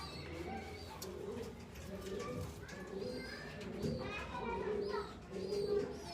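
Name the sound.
teddy pigeon pair cooing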